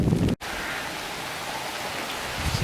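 Steady hiss of rain falling, a dense even wash of sound with a brief cut near the start and no voices.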